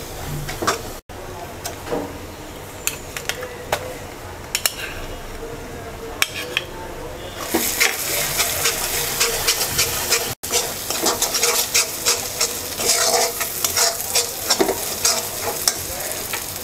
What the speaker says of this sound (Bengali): রসুন ভাজা হয়ে গেছে, বা সরিষা বাটা দিয়ে দিচ্ছি।